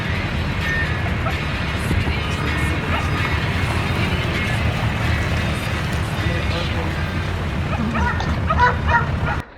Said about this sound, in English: Sorry about the dog barking here.